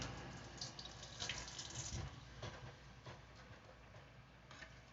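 A kitchen faucet runs steadily while a few herb leaves are rinsed under it, a soft continuous splash with small irregular patters, faint and close.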